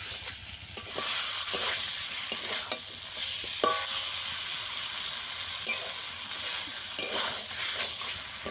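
Bom fish cooking down in oily masala in a pan over a strong flame, a steady close sizzle broken by repeated scraping stirs, with no talking.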